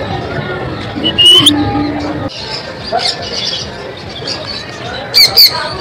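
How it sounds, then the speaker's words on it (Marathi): White pigeons at a fun fair give a few sharp squawking calls, two louder bursts standing out over a murmur of crowd noise in the background. "हे पण काय मस्त आहेत ना कबूतर"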